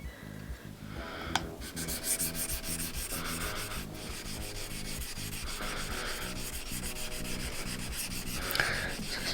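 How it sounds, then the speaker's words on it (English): A plane blade is rubbed back and forth on a sharpening stone in steady, rhythmic gritty strokes, close and continuous with no talking. "it's important to keep that blade nice and flat on the stone, not lifting it or tilting it"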